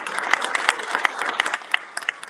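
Audience at a River Rouge High School commitment ceremony for football player Nick Marsh breaks into applause, a dense run of clapping with sharp individual claps standing out, steady and fairly close for a couple of seconds.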